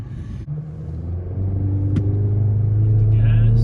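The engine of a 2023 Chevy Colorado pickup truck revs up, a low steady rumble that climbs and grows louder over a few seconds, heard from inside the cab.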